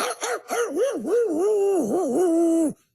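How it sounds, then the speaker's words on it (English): Several dogs kept outside next door howl and bark together in long rising and falling wails, fairly close and loud, with no talk, ending abruptly. "their dogs bark and howl for an hour and a half, 2 hours"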